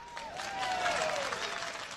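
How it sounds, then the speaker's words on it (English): Audience applause at a live stage show, a short steady patter of clapping at moderate distance, fairly soft and even throughout. "go ahead and clap either way"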